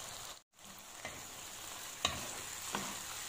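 Pumpkin shakshuka with garlic, spices and tomato simmering over low heat, giving a soft, steady sizzle with a few faint stirring clinks.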